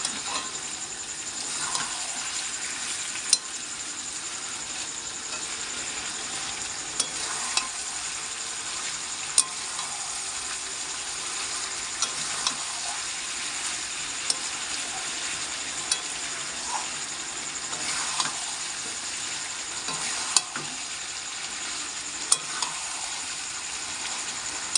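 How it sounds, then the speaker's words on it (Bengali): Chicken kosha being sautéed in a pan, giving a continuous bright sizzle with regular scrapes and knocks of the spatula spread across the whole stretch, close by and steady, with no talking. "দিয়ে ভালো করে কষে নেবো আবার।"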